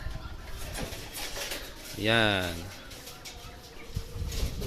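A small BBC racing pigeon hen at a loft gives a short, clear coo-like call mid-way, near and brief, with quiet outdoor background and a voice speaking briefly.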